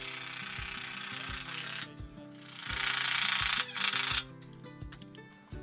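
A power driver sinks a tech screw into a greenhouse bow tube: a steady loud whir with rapid ratcheting clicks, a short pause, then another burst of driving and a final clunk.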